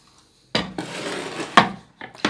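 A knife dices a dry onion on a board, a few sharp chops and knocks with short pauses between them, close and clear in a quiet kitchen.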